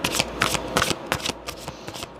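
A tarot deck is shuffled by hand, several quick riffles and rapid bursts of cards flicking against each other, close and crisp with no speech.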